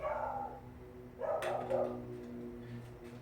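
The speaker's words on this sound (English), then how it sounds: "Dog's barking next door." A dog next door barks a few times from a short distance, short yapping bursts over a quiet background hum.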